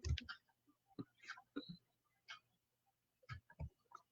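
Typing on a computer keyboard gives scattered, soft, uneven clicks in short bursts, quiet and close, with faint speech-like sounds between them.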